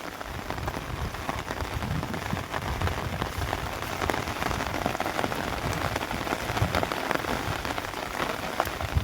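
Heavy rain pours down steadily across a village in Agaskhand, a dense, continuous hiss of drops drumming on surfaces with constant loudness and no voices.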